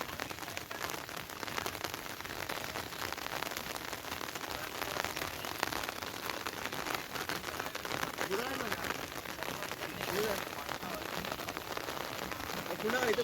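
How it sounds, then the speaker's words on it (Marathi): Rain falling steadily in a Konkan village, a dense even hiss of drops on surfaces that holds at the same level from start to finish, with faint voices now and then. "पाऊस जवळ"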